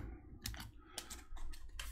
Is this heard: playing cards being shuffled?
yes